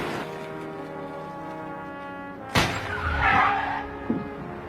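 A car stops abruptly and its window glass shatters: one sharp, loud crash bursts out midway, followed by a rushing, crackling tail and a smaller knock, all over a steady musical background.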